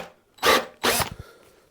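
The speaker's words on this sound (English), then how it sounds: "I'm going to just go down the first little bit with a 6mm drill bit as well" A 6mm drill bit cuts a clearance hole in a Stratocaster tremolo part in two short, loud bursts, each a whirring grind, separated by a brief pause and trailing off into quiet.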